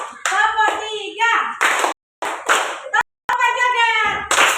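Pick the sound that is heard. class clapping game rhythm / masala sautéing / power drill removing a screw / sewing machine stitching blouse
class clapping game rhythm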